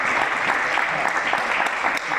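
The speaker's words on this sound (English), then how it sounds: "let's begin with a thunderous applause" A thunderous audience applause at an entrepreneurship session at IIT Ropar: continuous, dense clapping from a large crowd, steady and fairly loud, dropping off slightly at the very end.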